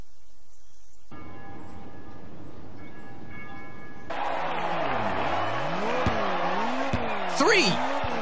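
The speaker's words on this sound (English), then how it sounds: "Now start your engine and get ready." Race cars in the Ridge Racer 6 video game: engines rev with rising and falling sweeping tones while tires squeal sharply, quiet music-like hum first, then loud roaring race noise with a squeal near the end.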